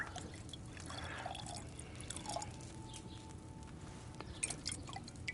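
Liquid poured in the medieval video game Kingdom Come Deliverance II, a soft watery trickle and dripping over a steady low background hum, with faint clinks toward the end.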